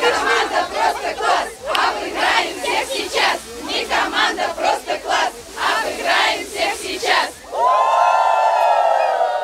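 A crowd of fans at a stadium lets out rhythmic, chanting cheers and yells in loud repeated bursts, followed by a sustained brassy fanfare-like tone at the end.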